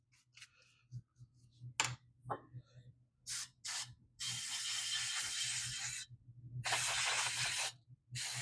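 Contact cleaner sprayed from an aerosol can onto the armature of a circa-1895 Crocker-Wheeler bipolar fan motor, two long hissing bursts after some scattered clicks and handling noises, close and fairly quiet.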